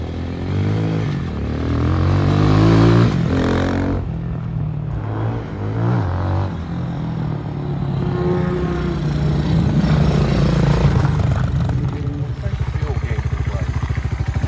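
Cheap street motorcycle bought on Amazon, ridden with a steady engine drone that swells and eases as it revs, close and fairly loud, with brief clatter and wind rumble along the way.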